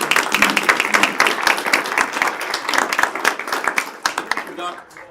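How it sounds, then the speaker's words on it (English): An audience applauds honored Georgia teachers at a state education department event; steady, dense clapping from a sizable crowd, loud and continuous before tapering off near the end. "Let's give them all a big round of applause"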